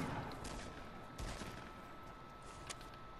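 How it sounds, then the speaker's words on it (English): Gunfire in the video game Fortnite: a dense, steady volley of shots rattles on without pause, mid-distance and fairly loud, with no talk over it. "it sounds like somebody else shooting"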